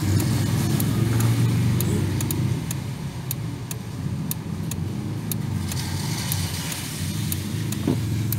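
A 2010 Nissan Serena with a 2.0L engine, fitted with an HHO fuel saver and EFIE, idles with a steady low hum, overlaid by a regular light ticking that repeats evenly through the whole stretch.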